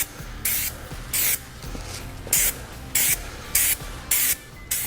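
Raptor bedliner is sprayed from an aerosol can onto a truck bumper and grille in a rhythmic series of short, loud hissing bursts, about eight passes with brief gaps between them.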